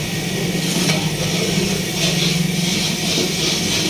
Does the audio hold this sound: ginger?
yes